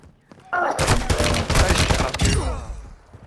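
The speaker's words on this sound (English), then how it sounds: "You are taking effective fire." Video game gunfire in Call of Duty: Modern Warfare II, a dense, loud burst of rapid shots crackling for a couple of seconds before fading.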